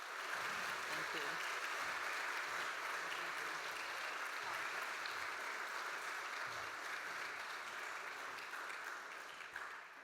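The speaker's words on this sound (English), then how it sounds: "Join me in a big round of applause one more time." Audience at an evening event applauding, a dense, steady wash of clapping lasting the whole stretch, slowly tapering toward the end.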